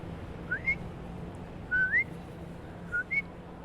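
A beginner whistles to imitate a bird: three short rising chirps, each a quick two-note upward slide, spaced about a second apart and heard alone over faint room hiss.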